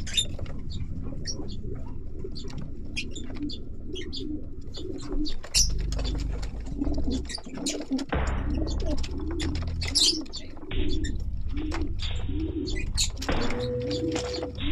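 A pigeon cooing while being held and handled: repeated soft, low coos and throaty murmurs close by, mixed with chirps and rustling throughout, with no one talking.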